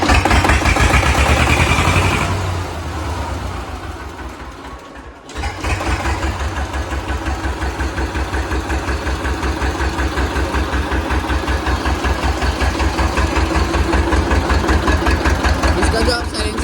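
A restored old tractor engine on show in India is cranked with an uneven chugging rush, drops off briefly, then catches and settles into a loud, close, steady rapid thumping idle as people speak nearby.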